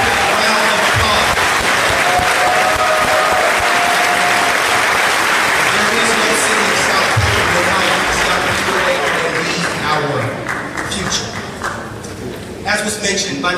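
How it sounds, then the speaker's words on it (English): An audience at an inaugural swearing-in ceremony gives sustained applause for Banneker High School students, a dense, loud wash of clapping that thins out and fades toward the end. "Please join me in giving these young people a round of applause."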